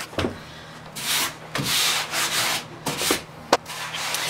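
Repeated rough strokes of sandpaper rubbing across a wooden furniture piece being distressed, close and steady with brief pauses between passes, plus one sharp knock near the end.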